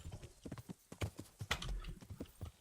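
Horse hooves clip-clop in the medieval video game Kingdom Come: Deliverance, a quick uneven run of close hoofbeats over about two seconds, fairly quiet, with no talking over them.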